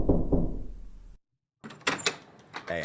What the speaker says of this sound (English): That sound effect for knocking the door was a little too good.